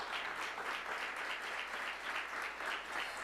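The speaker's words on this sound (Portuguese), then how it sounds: "dá uma salva de palmas a Jesus" A church congregation claps steadily, with full, continuous applause rolling evenly at moderate loudness for a few seconds and no talk over it.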